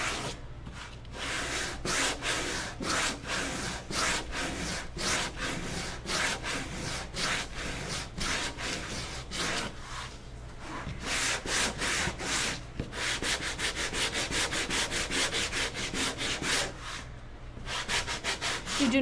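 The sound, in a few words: hand sanding painted wood clock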